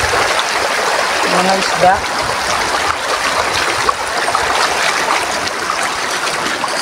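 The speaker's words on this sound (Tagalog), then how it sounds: "Yung alon ba tawag doon, yung pagaspas ng tubig." Water rushes and splashes steadily in a shallow stream beneath a hanging bridge during the dry season. The flow sounds close and constant, and a person speaks briefly over it.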